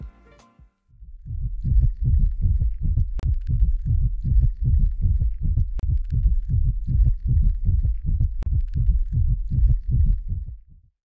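Fortnite Battle Royale egg object sounds: a steady run of soft, low, throbbing thumps in quick rhythm, like a heartbeat, with a few sharp clicks scattered through.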